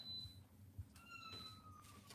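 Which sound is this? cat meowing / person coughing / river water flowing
cat meowing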